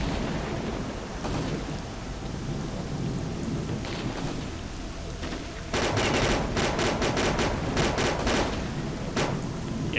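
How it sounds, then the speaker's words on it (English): Gunfire in the video game S.T.A.L.K.E.R. Clear Sky over steady rain-like ambience, faint scattered shots early, then a rapid loud string of shots and a few single ones near the end. "There's someone else off to the right somewhere firing at me"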